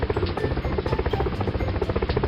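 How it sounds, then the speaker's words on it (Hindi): A loud helicopter throbs steadily overhead during floods, dropping food packets, its rotor chopping in a rapid, pulsing rhythm with a heavy engine drone. "हेलीकॉप्टर से आकर कुछ लोग खाने के पैकेट फेंकते थे।"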